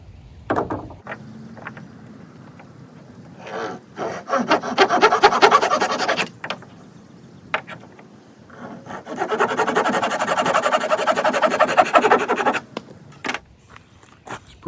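A Corona razor tooth saw cuts through dense fatwood in two long bursts of rapid rasping strokes separated by a pause and scattered clicks, close and clear with no talking.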